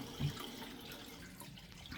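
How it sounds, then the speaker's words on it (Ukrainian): Water rushing from a toilet cistern into the bowl during a flush, a quiet steady wash of flowing water with a slightly stronger surge near the start and no talking. "через систему зливу почала зливатись вода в сам унітаз"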